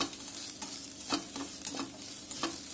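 Okra for a Kerala ladies finger curry sautéing in a pan gives a soft, even sizzle with several light spatula scrapes and taps, quiet and nearby, with no speech.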